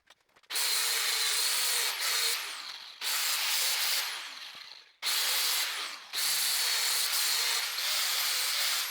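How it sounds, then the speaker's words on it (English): Welding on a metal round bale feeder produces loud, close, steady hissing crackle in four long bursts lasting about one to two seconds each, with brief quiet gaps between them. "now I just got to go ahead, weld the other side on"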